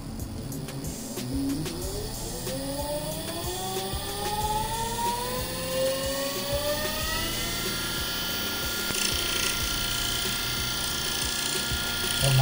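A 48V 1000W CY brand BLDC e-bike motor runs in reverse mode, a steady mechanical whir whose rising whine climbs in pitch as it speeds up, then holds level, with faint ticking underneath.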